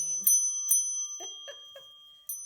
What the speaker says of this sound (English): Vintage W.T. Rogers call bell.